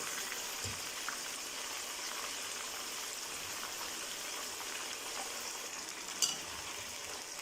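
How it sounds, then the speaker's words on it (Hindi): Chicken pieces deep frying in a generous amount of hot oil for a Peshawari charsi karahi, giving a steady, even sizzle throughout with one brief sharp crackle near the end. "डीप फ्राई करना है हमने इस तरह ज़्यादा ऑयल में"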